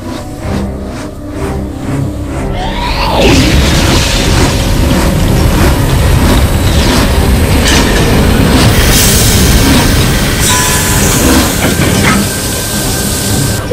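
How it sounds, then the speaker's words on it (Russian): A monstrous devouring train from a horror video game rumbles past, a loud, steady roar of rolling wheels and hissing that swells after a few seconds and stays near and heavy, with no talking. "О нет, это поезд-пожиратель!"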